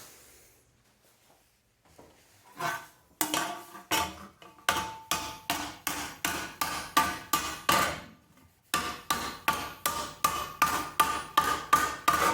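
Rawhide mallet striking annealed metal in a steady run of close, evenly spaced blows, with a short pause before the hammering resumes.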